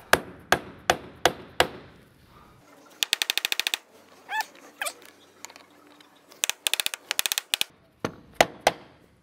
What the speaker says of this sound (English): take a blow hammer and start tapping it